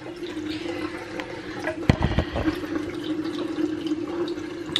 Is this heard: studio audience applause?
no